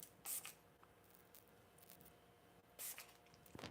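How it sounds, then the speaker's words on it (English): A vanilla scent spray fires two short hissing bursts, spaced a couple of seconds apart, close and fairly quiet, with faint handling noises between and no talk. "Kind of just want to spray a little vanilla."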